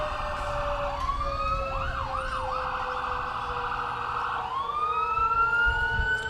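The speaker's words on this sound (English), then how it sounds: "You gotta love these fire trucks with that nose light on there that spins" A Peru Fire Department fire truck passes in the 2017 Light Up Logansport night parade, its siren wailing and briefly yelping over a constant engine rumble, loud and close throughout.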